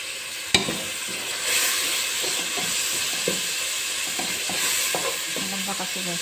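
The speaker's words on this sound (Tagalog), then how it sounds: "ihalo na natin yung seasonings" A spoon stirs seasonings and tomato into kabuli pilao in a pan, scraping and clattering in irregular strokes over a steady frying sizzle and steam hiss, with one sharp knock near the start.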